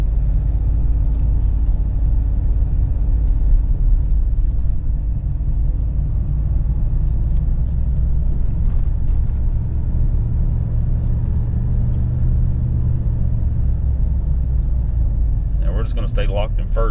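Ford 7.3 gasser Tremor truck towing a heavy load downhill in second gear, its engine a steady low rumble with road drone throughout and a brief brake hiss near the end; a person talks over it.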